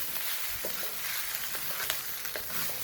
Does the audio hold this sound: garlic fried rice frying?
yes